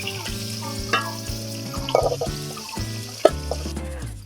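Fish finishing frying in hot oil in a wok for Bengali macher kalia, a moderate sizzle broken by a few sharp utensil clinks and splashes.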